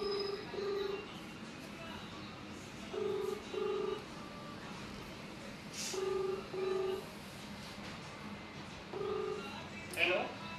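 Telephone keypad dialing to reach the police: paired tone beeps repeat in four evenly spaced bursts, faint against a low room hiss, with a brief clatter near the end.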